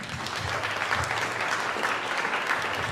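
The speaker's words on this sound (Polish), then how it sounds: "Proszę o brawa." A crowd applauds at a recitation contest, a thick, even wash of clapping hands sustained throughout at full strength.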